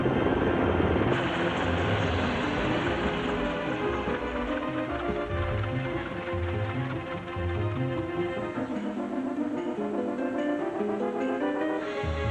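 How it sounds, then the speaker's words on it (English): Military UH-60 Black Hawk helicopters fly in to rotate troops during the 1983 Grenada invasion, their rotors producing a loud, steady, throbbing chop that fills the whole stretch without any talk. "The UH-60 Black Hawk helicopters raced in to rotate the troops."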